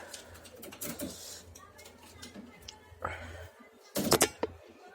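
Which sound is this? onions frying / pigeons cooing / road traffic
pigeons cooing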